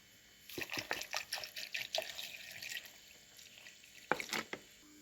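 A short burst of cold water splashing and trickling into a blender holding carrot for juice, then quiet, followed by a couple of brief splashes near the end.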